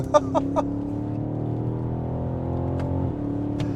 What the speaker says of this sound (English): we turned on a little bit of a burbles because the owner likes to create some sound in his car